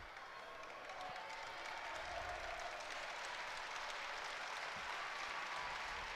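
Spectators at a men's college wrestling dual between Lock Haven and Wisconsin clap and cheer in a field house, a steady wash of crowd applause and noise that swells slightly, heard from a distance at moderate level.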